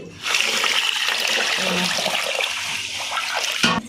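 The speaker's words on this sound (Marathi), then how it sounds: "मी आता ह्याला दोन पाण्याने स्वच्छ धुवून देते" Water splashes and swishes steadily for several seconds, close by, as basmati rice is rinsed and stirred in a pot, with a brief clatter near the end.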